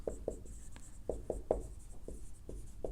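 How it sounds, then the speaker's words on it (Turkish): Writing on a board during a lesson comes through as a run of short, quiet scratchy strokes in an uneven rhythm, close by, with no voices. "Yani yazıyorum hemen subject subject kullanılmaz."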